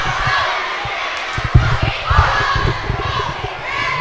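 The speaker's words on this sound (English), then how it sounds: "Looks like right now we have a little battle going on between the cheering section of Rutland and the cheering section of MSJ." Rival student cheering sections of Rutland and MSJ at a high school boys varsity basketball game in Keefe Gymnasium, a loud continuous crowd roar with shouting and rhythmic thumps, while a commentator talks over it.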